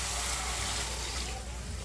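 Water poured into a pot of brain curry (bheje ka salan) as it cooks, a continuous splashing gush with some sizzle that fades slightly toward the end.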